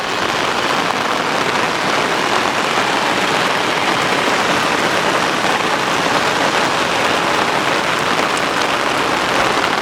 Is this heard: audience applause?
no